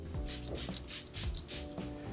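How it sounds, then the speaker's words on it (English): Jurlique Rose Water Balancing Mist sprayed onto a face in several quick bursts, each a short airy hiss in close range over a steady background. "I'll just spray it on my face like this"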